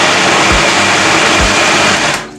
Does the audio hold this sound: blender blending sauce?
yes